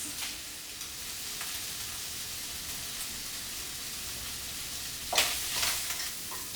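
Sausage meat browning in a pan, a continuous hissing sizzle held at an even level, with a brief burst of stirring scrapes near the end.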